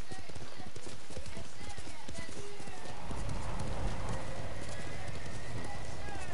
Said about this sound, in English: What's up, my horse?